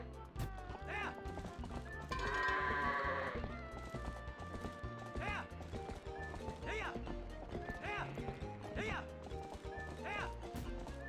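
Goats bleating and hooves clattering as they are herded on a ranch in the video game Twilight Princess, with repeated bleats over game music and someone talking throughout.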